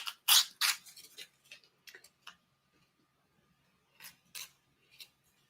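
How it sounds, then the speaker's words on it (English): Adhesive backing peeled away from a bag lining, heard as a few close, crisp crackling rips in short bursts with quiet gaps between them. "then from here, I would just peel the backing off"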